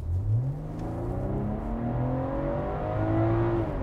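A refreshed 2023 BMW M340i with a 48-volt mild hybrid, driven in Eco Pro mode, is floored from a roll. The engine note climbs steadily through rising revs with a shift partway, loud and close inside the cabin.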